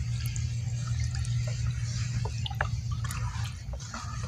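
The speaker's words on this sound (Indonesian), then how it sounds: "Nih kita aduk" A liquid mixture being stirred for treating mung bean plants, with soft wet swishes and small drips over a steady low hum, fairly close and quiet.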